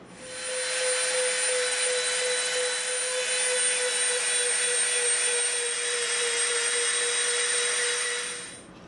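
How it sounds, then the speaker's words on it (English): A rotary tool fitted with a smoothing bit cleans up a cut while making an Avatar RDA pistol prop, a steady high-pitched whine that runs for about eight seconds, close and even, then spins down, with no talk. "now we're going to come in with our smooth bit and clean it up"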